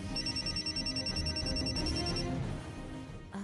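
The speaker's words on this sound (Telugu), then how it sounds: "అక్క ఫోన్ చేసిందండి." A telephone rings with an incoming call in a household scene from a Telugu TV serial, a bright repeating electronic ring in short pulses, fairly loud over a busy background of music and room sound.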